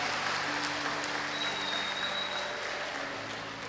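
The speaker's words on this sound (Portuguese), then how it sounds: "Aplauda ao Senhor Jesus pela vida do Edu" Church congregation clapping together for a member, a fairly quiet, steady wash of applause lasting a few seconds with a faint background hum.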